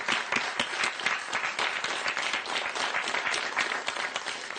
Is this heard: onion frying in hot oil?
no